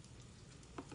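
Minced purple shallots sizzle in hot cooking oil in a pot, a steady close crackle with one brief louder pop near the end and no voices.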